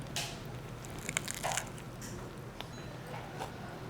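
A few quiet, crisp crunching bites into a Costco lettuce roll-up with fresh tomatoes, scattered irregularly over a near-silent background, close and soft.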